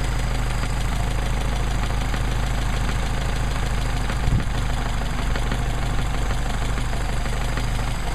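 A Mercedes 190SL engine fitted with Solex sandcast carburetors idles steadily at around 950 to 1,000 RPM, a constant low rumble with a faint ticking knock, heard close up without talking.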